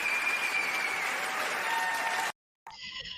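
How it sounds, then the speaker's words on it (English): Canned applause sound effect plays as a dense wash of clapping for about two seconds, then cuts off abruptly before a short tonal sound follows. "you're going to get another round of applause for that, sir. Let me just find my little clap."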